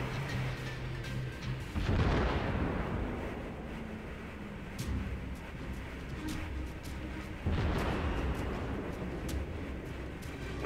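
Battleship main guns in the World of Warships naval game, aboard the Japanese battleship Fuso, fire two heavy booming salvos a few seconds apart over a constant rumbling wind and engine wash.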